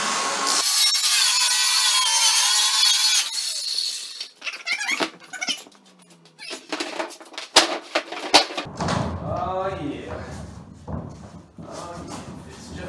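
A saw cuts a sheet of luan plywood to length for a queen-size loft bed platform. A steady stretch of continuous cutting is followed by intermittent scraping, squeaks and knocks, close up.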